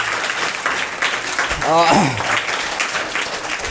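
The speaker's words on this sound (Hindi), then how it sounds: "ताली होना चाहिए इन लोग के लिए" Schoolgirls at a government school are applauded after singing a patriotic song; steady crowd clapping fills the moment while a voice rises briefly over it near the middle.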